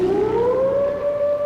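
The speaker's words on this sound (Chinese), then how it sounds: "空袭警报！" An air raid siren wails during a wartime Japanese bombing raid on Wuhan, one loud, sustained tone that slowly rises in pitch and carries on alone with no talk over it.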